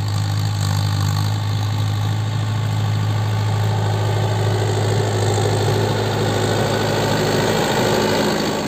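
A tractor engine drones steadily while ploughing a mustard field in West Karbi Anglong, a loud, continuous low hum with even vibration and no change in pace.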